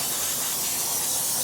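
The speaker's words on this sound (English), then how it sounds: "spray all that off, spray everything off really good" A close, loud, continuous spray washes spilled brake fluid off painted parts and the master cylinder during a rear brake job, a steady hiss that cuts off abruptly at the end.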